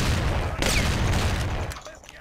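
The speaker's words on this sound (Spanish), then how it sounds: "Es un disparo fuerte, ¿eh?" Gunfire in Mafia: The City of Lost Heaven, a loud burst of shots near the start followed by a ringing, fading tail, with some background noise and possible talk.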